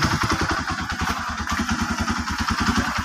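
A motorcycle engine idles at a raised idle speed, loud and close, with a fast even mechanical clatter pulsing steadily throughout and no voices.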